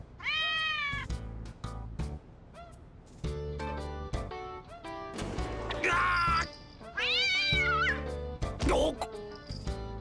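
Repeated cat meows from the video game Digital Devil Saga, several rising and falling cries spread across the stretch over a steady musical background, with a short talking voice in between.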